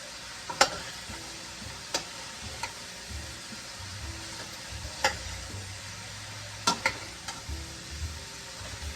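Vegetables stir-fried in coconut oil in a pan for a curry, a steady low sizzle broken by sharp scrapes and clacks of the utensil against the pan at irregular intervals, close and without talk.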